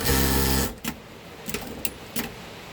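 A home sewing machine with a freshly loaded bobbin runs fast through a scrap of fabric, a brief close whirring burst that stops, followed by a few soft clicks and knocks.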